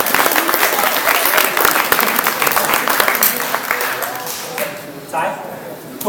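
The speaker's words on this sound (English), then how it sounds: "Round of applause." Loud, dense audience applause fills a college magic show, steady for several seconds before thinning toward the end, with voices mixed into the crowd noise.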